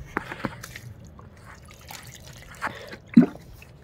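Water from a bucket poured onto potted plants on a rooftop, a few close splashes and drips in short irregular bursts against a quiet background.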